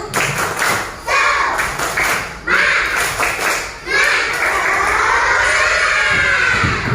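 Classroom of children doing a rhythmic clapping chant, bursts of patterned claps alternating with loud, energetic shouted chanting voices, close and lively.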